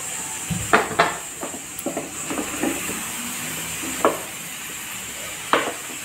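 Ridge gourd stirred into a fried spice paste with ginger in a pan gives a steady low sizzle. A handful of sharp spatula scrapes and clinks cut across it, all close by.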